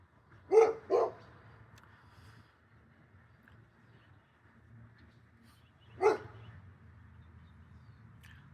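A dog indoors gives two quick barks, falls silent for several seconds, then lets out one more close, sharp bark, with no one speaking.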